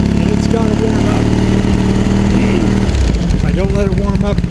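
A vintage Triumph engine held at around 2,000 to 3,000 rpm as it warms up, a loud continuous close rumble with shifting revs, while someone talks over it.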